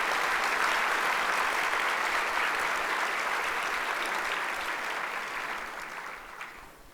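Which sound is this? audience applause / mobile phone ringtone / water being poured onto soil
audience applause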